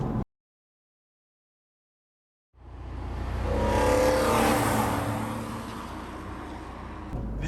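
Car engine while driving, a near-silent pause then a steady, close engine drone rising and holding under acceleration.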